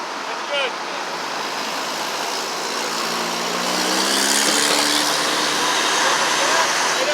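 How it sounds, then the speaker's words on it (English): City street traffic backed up near a construction site: a steady, loud wash of engines, with a rising low rumble as a heavy vehicle passes, and a voice in the mix. "Traffic is backed up all the way down"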